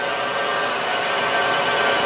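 A stand mixer's grinder attachment chews through horseradish root at speed 4, producing a loud, steady, close mechanical whir with dense buzzing grit and no talk over it.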